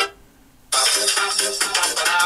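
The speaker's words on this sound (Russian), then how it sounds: "Если у вас в кармане заиграет данный смартфон, то за этот звук не будет стыдно" An OUKITEL Y4800 smartphone plays a ringtone loudly through its speaker, a bright, full melody with a light bass that starts abruptly after a short quiet pause and keeps going to the end.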